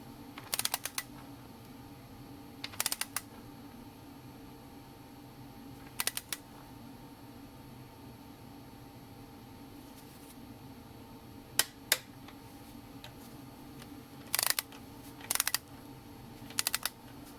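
Torque wrench tightening intake bolts to 18 foot-pounds in a crisscross pattern on a 3.6 LFX V6 Impala engine. Sharp, crisp clicks come in short pairs and clusters, spaced apart over quiet background hum.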